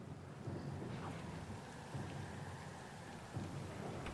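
A storm in the video game Pillars of Eternity II brings steady rain and low rolling thunder, a faint, continuous wash with several deep rumbles swelling underneath.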